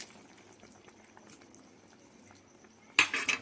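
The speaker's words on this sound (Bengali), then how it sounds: "ঝোলটা ভালো করে ফুটে গেছে" Fish curry broth for parshe macher jhal bubbles softly and steadily in a pot, then a louder burst of clattering and splashing cuts in near the end.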